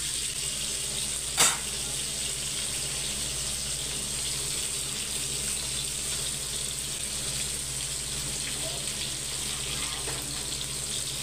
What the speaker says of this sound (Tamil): நான் கழுவுறேன்.